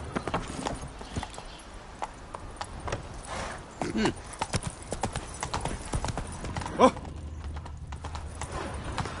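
A horse's hooves clip-clop in a rapid, steady rhythm in The Witcher 3 on PS5, close and continuous over a faint background, with a short neigh near the middle.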